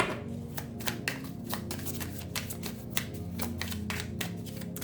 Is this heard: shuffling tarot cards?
yes